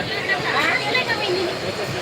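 A crowded train ride: a continuous rumble and rattle of the moving carriage blended with the chatter of many passengers, with a voice talking close by throughout.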